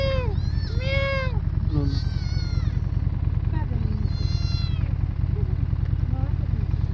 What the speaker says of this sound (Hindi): ये देखिए बिल्ली का बच्चा